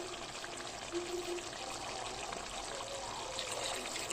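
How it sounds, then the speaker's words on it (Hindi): Water is poured into a mutton curry gravy in a pot, a soft continuous trickling and splashing rush heard at low level throughout. "अब जो हम इसके अंदर ऐड करने जा रहे हैं 5 से 6 गिलास पानी के"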